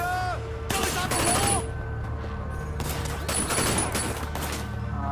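Bursts of rapid gunfire crackle in a Sleeping Dogs shootout, two dense volleys separated by a brief lull, loud and close over steady game ambience.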